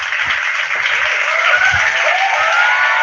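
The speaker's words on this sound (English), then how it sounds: "Let me get some more claps. I need some claps." Steady applause from a podcast studio audience fills the whole stretch, dense and even, with a few low thumps underneath and no voices on top.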